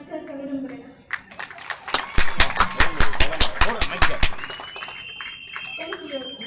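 A gathered audience at a community centre event claps in a burst of sharp, evenly spaced claps for about two seconds. Speech comes before and after the clapping.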